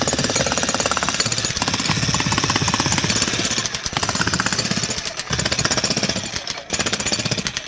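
A 2100W VEVOR electric demolition jackhammer pounds steadily and loudly at close range breaking pavers, its rapid hammering continuous with only a couple of brief pauses.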